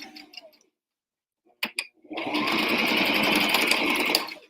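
After a few faint clicks, a sewing machine stitches apron fabric in a loud, steady, rapid whirring run lasting about two seconds, close by and alone.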